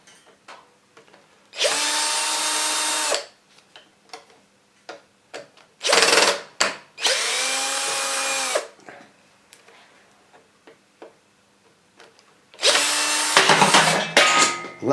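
Power tool whirring out screws from the motor of a Rock-Ola 430 jukebox mechanism, several loud close bursts of a few seconds each, with light clicks and handling noises between them and no talking.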